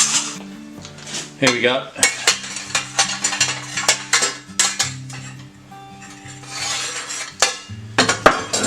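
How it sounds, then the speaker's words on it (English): Vintage metal utensils, a matching ladle and sieve, clank and clink as they are handled, with repeated sharp metallic knocks and rattles up close. A voice speaks briefly partway through. "So have a ladle and a sieve. That's a matching set."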